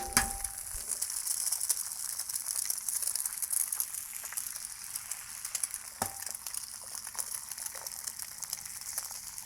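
Eggs cracked onto a Blackstone griddle in hot bacon grease, a steady close sizzle and crackle of frying with a few sharp taps and splats as shells break and eggs land.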